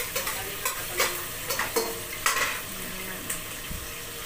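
Onion and garlic sautéing in a pan while Filipino vegetables are cooked: a steady sizzle and fry with repeated scraping stirs of a utensil, close up, no talking.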